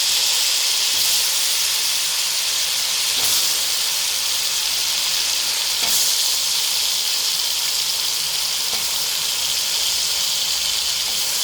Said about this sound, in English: Okay, so we are adding the chopped mushrooms